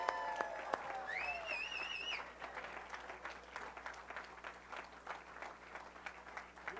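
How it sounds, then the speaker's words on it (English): Church congregation applauds mothers, many hands clapping in a moderately distant, irregular patter that fades gradually, with a brief whistle and a voice near the start. "Let's give these ladies a round of applause."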